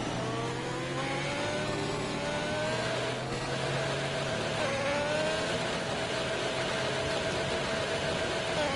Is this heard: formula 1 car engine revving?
yes